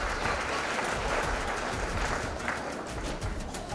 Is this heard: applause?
yes